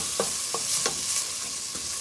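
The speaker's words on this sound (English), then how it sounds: "Give this a stir." A pot of snapper stew seasoned with freshly ground black pepper bubbles under a constant hiss while a spoon stirs through it, a few soft scraping knocks rising above the simmer, close by and with no speech.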